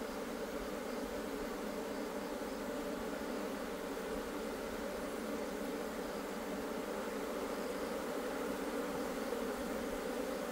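Eastern honeybees hum in a low, steady drone during a hive inspection, a constant close buzz with no pauses and no voices.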